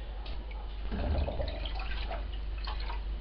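Ceramic glaze pouring and splashing out of a bowl for a few seconds, gentle trickling and dripping, close by with no talking.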